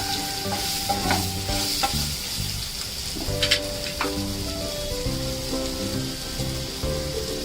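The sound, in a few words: raw mango pieces sautéed in spices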